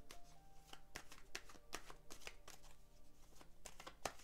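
Tarot cards being shuffled by hand, a quick irregular run of soft riffling slaps and flicks, close but quiet, with no voice.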